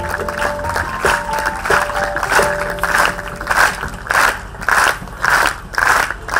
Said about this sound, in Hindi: केवल हमारी ताली का नाच।